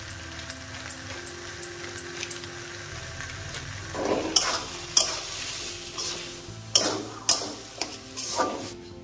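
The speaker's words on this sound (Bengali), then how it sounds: "ভালো করে নাড়তে হবে।" A banana flower chop mixture gets stirred in an oily pan, a spatula scraping and knocking in repeated close strokes over a steady low frying sizzle, with no voices.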